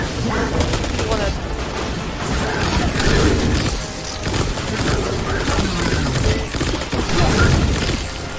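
A grenade blast in the Destiny 2 video game, a booming burst mixed into continuous rattling gunfire and game noise, with people talking over the action throughout.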